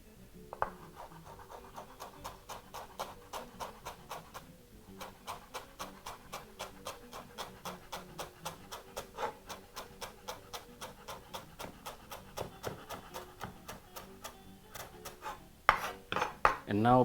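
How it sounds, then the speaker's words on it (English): A knife chops fresh coriander leaves very finely on a board for a Kenyan vegetable githeri, a fast, even run of quiet taps that continues steadily, close and alone. "So we're going to proceed to chop this very,"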